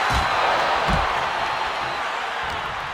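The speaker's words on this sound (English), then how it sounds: "when you can't hear yourself think because the crowd's so loud" A loud arena crowd at a wrestling match roars as a continuous dense wash of noise, with a couple of low thuds near the start.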